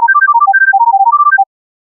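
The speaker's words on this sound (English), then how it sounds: "So instead of B, it now contains a B flat," A minor tone scramble of rapid pure synthetic tones containing B flat, about twenty short beeps in a quick, even, jumbled sequence, clean and loud, then silence.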